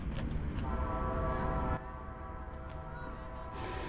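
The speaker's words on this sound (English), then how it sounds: "our train is pulling in" An Amtrak City of New Orleans passenger train rumbles into a station with a steady low roar and a sustained tonal hum or whine, the noise dropping partway through as it slows.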